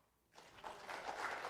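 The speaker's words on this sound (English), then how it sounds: "A smattering of applause." A few scattered hand claps from a sparse audience at a Theodore Roosevelt symposium, starting after a short silence and building into a thin, uneven patter that carries on to the end.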